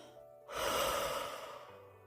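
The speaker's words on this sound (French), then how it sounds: "Soufflez un beau coup." A single long, deep exhale through the mouth during a guided relaxation breathing exercise, close and breathy, swelling quickly and then slowly fading out, with quiet air around it.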